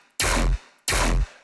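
A dubstep bass run through a gritty distortion effects rack plays as two loud, identical hits of about a third of a second each. They are evenly spaced and dense, and each one stops abruptly.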